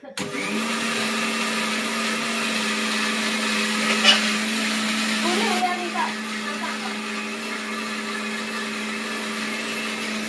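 A kitchen mixer grinder runs close by with a steady, loud motor whine and a constant hum, while a voice speaks briefly partway through.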